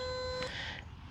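A single steady electronic tone from a dog training e-collar's vibrate setting holds briefly, followed by a buzzier higher whine that fades, ending with a soft thump.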